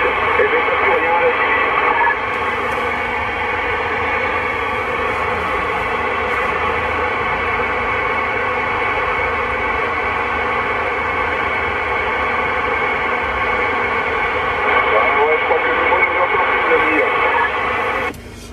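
CB radio static and interference on channel 19 in town, a steady loud hiss and hum with rough buzzing running unbroken for the whole stretch, voices faintly mixed in, before cutting off at the end.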